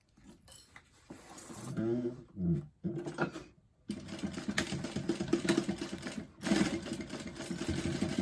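A sewing machine stitches up the corner of a fabric bag in short, quick runs of mechanical chatter, close and moderately quiet, with pauses between bursts and a longer steady stretch at the end.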